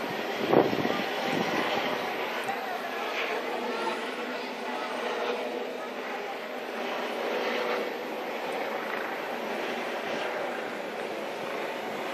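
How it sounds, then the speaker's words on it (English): A helicopter flies at a distance over Central Park, its steady engine and rotor drone continuous beneath excited voices talking throughout. "Look how far the helicopter is."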